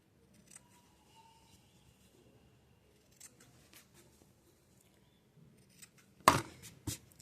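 Scissors snip the corners of sewn fabric for a small zippered pouch: faint, scattered snips early on, then a few sharp, close cuts near the end.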